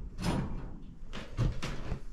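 A wooden door slides into its track on a shed converted into a chicken coop, making two or three short, close scraping thuds with brief rumbles between them.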